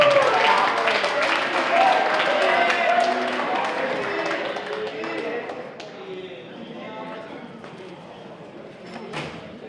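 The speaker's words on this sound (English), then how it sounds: "Now you get a round of applause" Football players at a banquet receive a round of applause, many hands clapping loudly in a large room before the clapping thins out and fades, with murmuring voices underneath.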